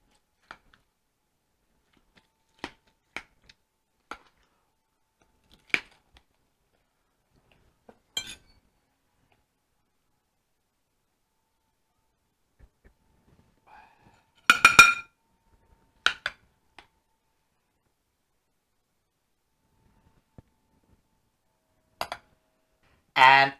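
Sparse clinks of dishes and cutlery while Finnish macaroni casserole is served, isolated taps and scrapes of plates and utensils spread across a quiet kitchen with a louder cluster midway, and a voice speaking now and then.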